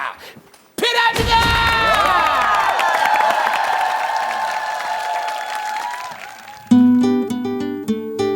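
A Korean television studio audience breaks into loud applause and cheering after a sudden thump, sustained for several seconds as music with bright tonal lines plays over it and carries on.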